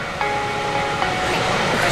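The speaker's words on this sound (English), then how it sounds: "That's Tito trying to open and close a window on the train" Interior of a moving passenger train in England, with a steady loud rumble and hiss from the carriage and faint clicks as a window is worked open and closed.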